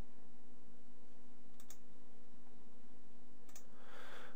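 A computer mouse clicks faintly twice, a couple of seconds apart, against a quiet room hum while launching a program on a desktop computer.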